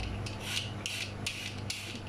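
A potato is scraped with a peeler, the slices dropping into a bowl of water: a soft, rhythmic rasping repeated about four times over a steady hiss.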